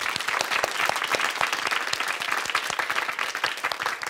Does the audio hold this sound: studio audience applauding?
yes